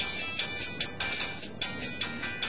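A phone ringtone repeating in short bright bursts at a steady rhythm, close and clear, with no talking over it.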